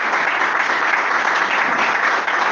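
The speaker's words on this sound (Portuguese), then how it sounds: "vamos adorar o Senhor com palmas bem fortes para Ele" Church congregation clapping hands together in worship, a dense, steady wash of many hands that stays loud and even from start to finish with no voices standing out.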